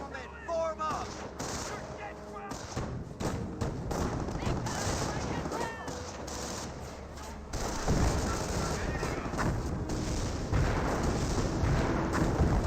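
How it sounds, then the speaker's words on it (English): Artillery and small-arms fire in the Company of Heroes real-time strategy game, a dense, continuous barrage of booming blasts and rattling shots that swells louder toward the end, with a voice talking over it. "British artillery does force back the riflemen"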